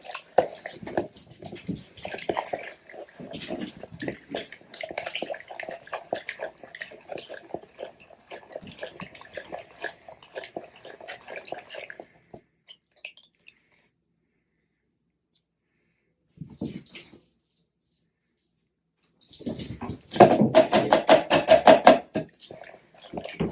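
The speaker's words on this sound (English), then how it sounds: "now we are just going to add in the water and then mix it" Water is poured into a peanut tofu mixture and stirred, giving a stretch of close, wet scraping and sloshing, then a pause, a brief splash and a louder burst of vigorous mixing near the end.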